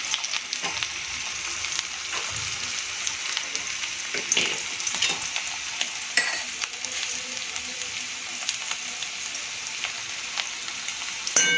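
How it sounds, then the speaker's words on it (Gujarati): Potatoes sauté in oil with salt over a high flame, giving a constant crackling sizzle like light rain. Stirring and occasional scrapes and clicks of a utensil against the pan run through it. "સૌ પહેલાં આપણે બટેકાને આમાં એડ કરી અને એને થોડી વાર માટે સાંતળી લઈશું"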